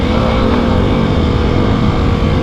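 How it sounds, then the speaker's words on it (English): A dual sport dirt bike engine held at full throttle in first gear, a loud continuous droning roar close by with no breaks or shifts, on an enduro trail ride. "I'm giving it full throttle. I gotta leave this thing on first gear"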